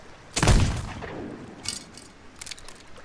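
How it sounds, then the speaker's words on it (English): A single flare gun shot in the pirate game Sea of Thieves, a sharp close bang with a fading tail, followed by a few fainter distant pops. "Shoot a flare."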